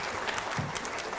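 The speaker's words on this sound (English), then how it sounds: "Let's have a round of applause for that." An audience at a state fair food event applauds, a brief burst of quiet, fairly distant clapping that carries evenly through the moment.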